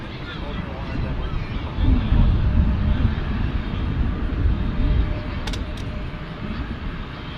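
A British Airways Airbus A380 departs DFW airport bound for London Heathrow. Its deep, distant jet roar swells and rumbles steadily throughout, with some talk nearby.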